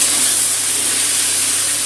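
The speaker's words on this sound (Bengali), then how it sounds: "টমেটোটা দিয়ে একটু ভাজা ভাজা করে নিচ্ছি টমেটো আর পেঁয়াজটা" Tomato and onion fry in a pan with a steady, dense hiss and sizzle, close and fairly loud, continuing evenly without pause or talk.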